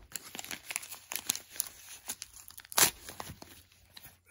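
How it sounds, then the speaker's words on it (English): A mail package is cut open by hand, giving a series of short tearing and crinkling bursts with one sharp rip near the end, close and fairly quiet. "I'm just gonna cut from this end to get in there easier."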